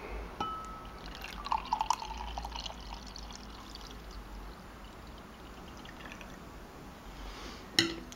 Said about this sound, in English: So let's pour it into the glass